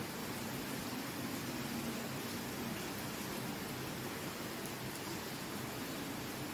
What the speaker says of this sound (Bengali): আজকে প্রচণ্ড বৃষ্টি হচ্ছে আমাদের এদিকে